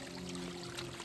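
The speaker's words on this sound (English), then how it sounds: "So I'm going to pour out all this water, and that'll make my pack a little bit lighter." Water glugs steadily out of a bottle while hiking outdoors, a continuous close pouring stream that stays loud and even throughout.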